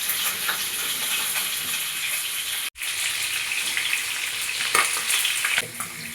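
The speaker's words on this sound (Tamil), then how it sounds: "சிக்கன் ஃப்ரை பண்ணும்போது நம்ம பேனில் தான் பண்ணுறோம்" Chicken pieces fry in a pan for Arabian mandi, giving a steady, loud sizzle with crackling and a brief stir or gap, close and alone without talk.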